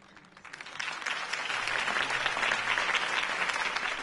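Crowd applause after a mayoral campaign speech in the Telltale Batman game, swelling from quiet to a full, sustained clapping roar.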